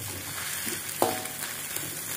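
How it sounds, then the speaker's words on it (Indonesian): Fried rice with fish meatballs is stir-fried in a pan, a steady close sizzle with scraping strokes of a spatula and a sharp clank of metal on the pan midway. "Yang penting intinya diaduk-aduk, diongseng-ongseng, diaduk-aduk, diongseng-ongseng."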